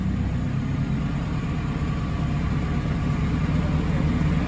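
A telehandler engine runs loud and close during a snow recovery, holding a heavy, steady diesel drone throughout.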